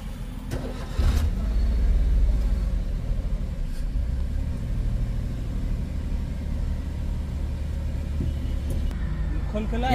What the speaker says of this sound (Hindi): देखते हैं फर्स्ट स्टार्ट।